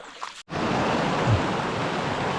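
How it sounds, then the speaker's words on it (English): Rapids and a small waterfall on a bass-fishing creek give a loud, steady rush of water nearby after a brief quieter moment and a short dropout at the start. "Got a nice little waterfall going. Some rapids."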